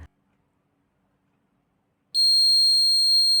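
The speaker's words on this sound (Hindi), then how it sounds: "जैसा कि आप देख रहे हैं कि कुछ टाइम इंटरवल में ही ये बजर बजना शुरू हो गया है।" A parking access alarm prototype's buzzer, triggered when a car parks in a restricted no-parking zone, starts abruptly after a silence and holds a loud, steady high-pitched electronic tone to the end.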